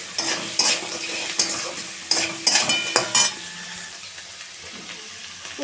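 Crabs fry with salt in a pan: a close sizzle with several loud clacking stirs and scrapes in the first half, then a quieter steady frying hiss.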